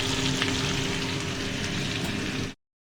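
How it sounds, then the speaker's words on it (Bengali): A loud, steady sizzle of crab frying in a pan of cooked-down spice masala, close and continuous before stopping abruptly; no voices. "এই দেখুন মশলাটা কষে গেছে, ক্র্যাব ফেলে দিচ্ছি আমি"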